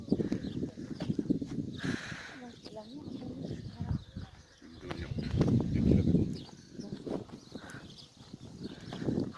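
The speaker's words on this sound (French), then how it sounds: "Ah, des chevaux." Horses walking along a path at the Brouage citadel on the Oléron road, hooves clip-clopping at a distance beneath steady outdoor talk and wind, with birds cooing faintly nearby.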